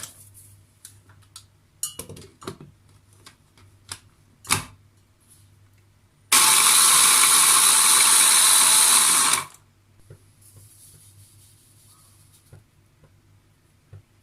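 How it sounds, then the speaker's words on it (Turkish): A food processor crushes biscuits in a single continuous burst of loud, steady whirring lasting about three seconds, with scattered clicks and clatter of the machine before and after. "Yağım erirken bisküvilerimi rondodan geçirerek ufalayacağım"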